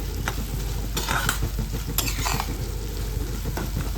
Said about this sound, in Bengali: দেখো আর একটু আমি অল্প নেড়ে নেব